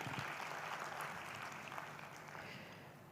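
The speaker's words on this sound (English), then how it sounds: "can we give him another hand of applause, ladies and gentlemen?" Applause from a conference audience at a digital transformation summit, a dense steady clatter of many hands clapping at once that thins only slightly over a few seconds, with no talk over it.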